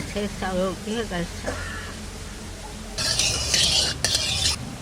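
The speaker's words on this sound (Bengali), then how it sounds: "বেগুনগুলো আগে ভেজে নিচ্ছি" Brinjal pieces frying in a pan: someone speaks briefly over some stirring, then a bright, close sizzle swells up alongside clinking utensil scrapes.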